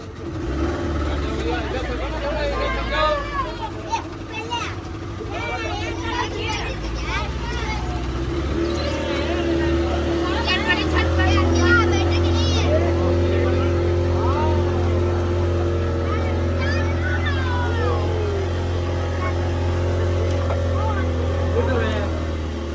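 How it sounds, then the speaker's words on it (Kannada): A boat engine drones steadily with a low hum that grows heavier partway through, while several people talk over it. "ಆದ್ರಪ್ಪ ಬೋಟ್ ಸ್ಟಾರ್ಟ್ ಆತ ಈಗ."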